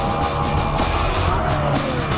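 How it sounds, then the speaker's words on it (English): Two Porsche 996 GT3 Cup race cars storm through a super fast corner at the end of a back straight, their engines a steady, loud, continuous roar with a hint of tire noise throughout. "Further back in the field was the battle of the two 996 GT3 Cup cars"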